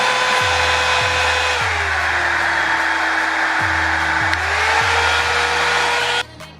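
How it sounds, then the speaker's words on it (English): A blow dryer used for straightening curly hair runs close and loud with a steady airy roar and a high whine, its pitch dipping and rising partway through, before cutting off at the end. "this is like my little premiere for my blow dryer"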